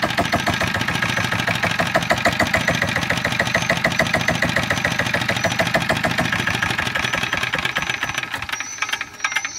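An NS 40 engine drives a water pump, running steadily with a fast, rattling, knocking throb that stays loud and close throughout with no voices.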